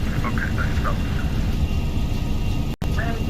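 A Boeing 757-200 freighter rolling down the runway for takeoff in X-Plane 11, a steady roaring engine drone with rumbling, interrupted by a brief dropout, while someone talks over it.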